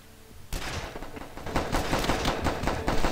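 Rapid gunfire in the video game The Last Stand 2, a dense run of repeated shots building into a steady loud fusillade that lasts to the end.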